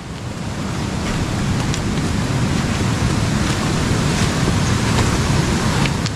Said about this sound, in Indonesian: Suara airnya, aduh segar pisan itu buat mandi.